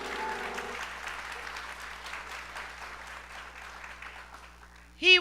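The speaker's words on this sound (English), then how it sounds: "One clap to the children, please." Audience applause for children at a harikatha storytelling event, steady mixed clapping throughout, a sung tone fading early and a louder burst near the end.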